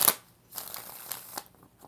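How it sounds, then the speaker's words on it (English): A deck of tarot cards being shuffled by hand, a few short close-up riffles and slaps spaced across the moment, quiet and dry with no talking. "5 shuffles."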